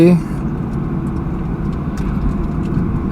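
A car on a POV drive along an empty road from Ramna Park toward Uttara gives off a steady, low engine and road rumble that stays even throughout.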